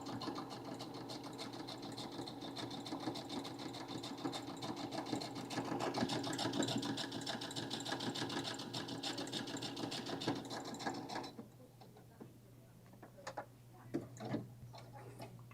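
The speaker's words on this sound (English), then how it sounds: "So I can make a really nice wide zigzag stitch." Baby Lock Jubilant sewing machine running a wide 7 mm zigzag stitch, a steady close mechanical whirr with rapid ticking needle strokes for about eleven seconds, then stopping, leaving a few faint clicks.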